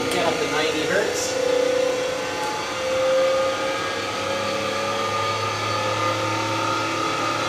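An electric motor fed by a variable frequency drive runs at 90 hertz, near 2,700 RPM, giving a steady whine with tonal hum that holds evenly throughout, with a voice talking over it.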